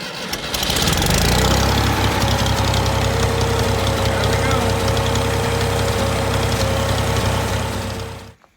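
An engine kept in winter storage catches and runs after refuelling and a battery charge, a loud, close, steady rumbling idle that holds for several seconds before cutting off abruptly.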